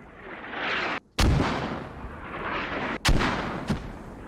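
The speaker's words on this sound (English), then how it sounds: "More mortars coming out" Mortar fire in the video game Squad: deep, booming blasts under a continuous rumbling battlefield roar, with heavy thumps landing about a second and three seconds in and a lighter crack shortly after the second.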